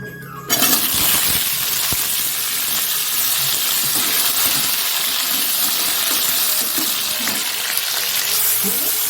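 Potatoes tip into hot oil already seasoned with five-spice seeds and dried red chillies for a low-oil cauliflower curry, setting off a sudden loud, steady sizzle that carries on without any talking.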